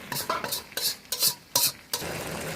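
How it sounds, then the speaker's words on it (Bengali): Spice paste fries in goat fat as a spoon stirs it in bursts, about six quick scraping strokes over a constant close sizzle, with no talking. "চর্বি দিয়ে মশলাটাকে ভালো করে কষিয়ে নেব।"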